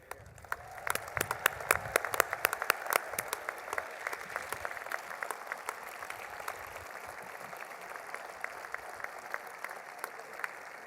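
A large outdoor crowd at a street dedication ceremony applauds the Arthur Ashe family, giving a dense, sustained clapping at moderate distance that continues for about ten seconds.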